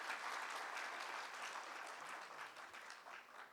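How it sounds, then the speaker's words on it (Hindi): Lecture audience clapping for the speaker after a breathing exercise session, a soft, distant-sounding round of applause that thins out slightly over a few seconds. "मेरे लिए कोई थोड़ी थोड़ी ताली वाली बजाएगा"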